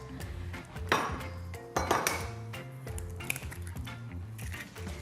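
Eggs going into a bowl of chocolate batter for a flourless chocolate cake, heard as a few close clinks and knocks of shell and utensils against the bowl, with no voices.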